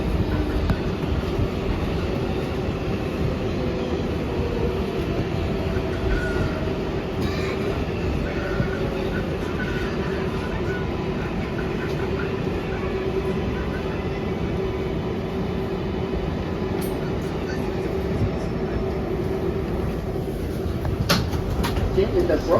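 An R142A car on a Brooklyn Bridge-bound 6 train in the New York City subway rumbles steadily throughout, with a continuous low roar of wheels and motors and a faint squeal near the end, under intermittent talk.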